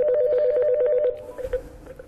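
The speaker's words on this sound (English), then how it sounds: "I am going to make a phone call into that phone" A desk phone on a ShoreTel VoIP system rings with an incoming call, a steady pulsing electronic ring for about a second before it cuts off into faint room noise and a brief rustle, nearby and fairly loud.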